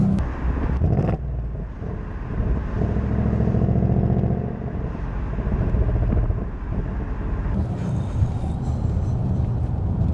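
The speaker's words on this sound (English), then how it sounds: "I can't hear myself think of what to say over the sound of the exhaust." A loud, close Ford Mustang GT V8 exhaust roars with a deep, steady rumble that swells as the car accelerates. Wind buffets the microphone.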